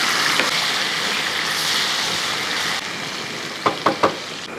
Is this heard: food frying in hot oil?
yes